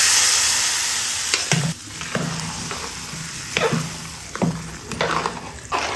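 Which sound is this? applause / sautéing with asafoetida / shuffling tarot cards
sautéing with asafoetida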